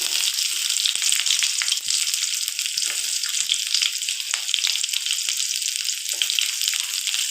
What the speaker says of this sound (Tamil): இது நல்லா பொன்னிறமாக ஆகிற வரைக்கும் நல்லா வறுத்து விட்டுக்கலாம்